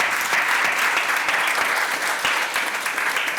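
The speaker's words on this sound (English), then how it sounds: "That deserves a round of applause, doesn't it?" Dense, steady applause from an audience at a Hall of Fame induction for a road running legend, loud and sustained throughout with no talk over it.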